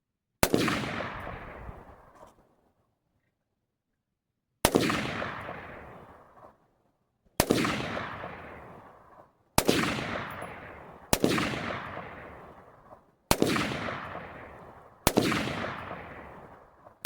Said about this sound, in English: I was shooting about 2 to 3 inches below